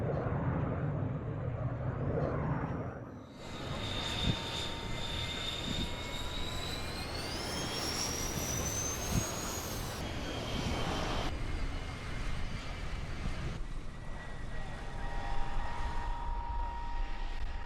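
Loud engines of F-104 Starfighter jets roar continuously, with rising whining tones as the engines spool up, rumbling steadily throughout with no talk.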